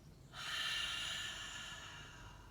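A deep, steady breath drawn in through the nose during a beginner yoga session, close and breathy, building quickly then trailing off slowly.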